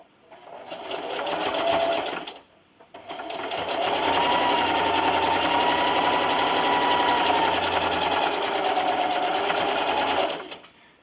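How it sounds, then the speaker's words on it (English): A sewing machine top stitches orange fabric for a carrot treat bag at an eighth-inch seam allowance, running in a short burst, a brief pause, then a long steady whir close up. "take this back over to your sewing machine, and I'm going to top stitch on the orange fabric with an 1/8 inch seam allowance"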